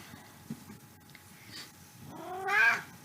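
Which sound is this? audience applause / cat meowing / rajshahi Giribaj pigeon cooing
cat meowing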